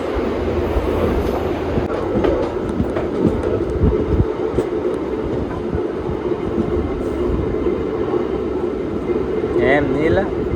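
A moving train rumbles steadily with a clatter of carriages throughout, with people talking over it and water falling nearby.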